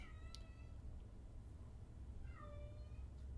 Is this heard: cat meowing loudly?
yes